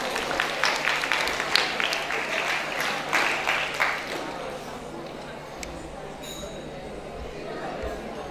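Audience at a school Kannada Rajyotsava celebration claps loudly for several seconds, a dense burst of applause that gradually thins and fades, with some crowd chatter underneath.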